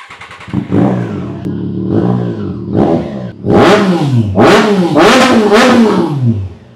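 A Triumph Trident 660 motorcycle fitted with an aftermarket all-black exhaust revs in a series of rising, close, loud blips, each climbing higher before dropping back to idle.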